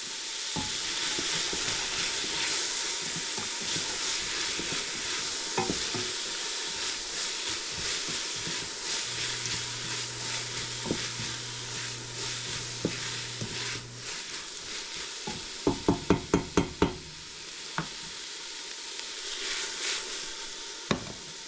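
Onions, celeriac and kohlrabi sauté in a soup pot with a steady, soft sizzle and occasional stirring scrapes, a short burst of sharp utensil clicks near the end.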